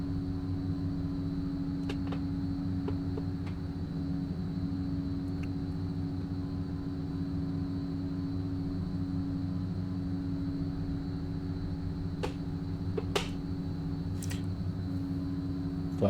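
Steady droning propeller and engine hum of a Fokker F27 Friendship turboprop climbing out after takeoff in a flight simulator, a constant low tonal rumble with a few faint clicks, no voices.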